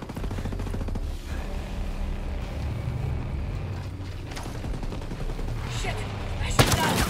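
Ghost Recon video game gunfire rattles as loud, rapid bursts and single shots over steady in-game rumble, with a sharp close crack near the end and some voices underneath.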